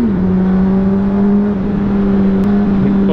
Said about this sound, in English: Always gotta do a little rev bombing